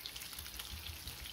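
Fish pieces fry in a pan with a faint, continuous crackling sizzle and scattered small pops, brief and close.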